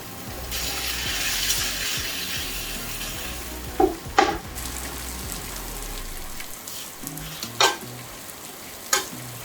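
A Korean chive pancake (buchu jeon) fries in oil in a pan with a constant, dense sizzle throughout, broken by a few brief clatters of a utensil.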